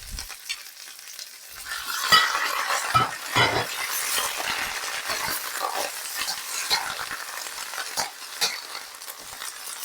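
Vegetables with garlic and onion stir-fried in peanut oil in a wok, a steady close sizzle broken by scraping stir strokes and clattering tosses across the whole stretch, no voices.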